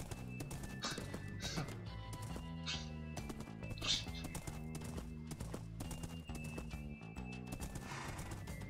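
A Minecraft horse clip-clopping and whinnying in the game, quiet hoof beats and a neigh set within a dense, continuous layer of tonal in-game sound.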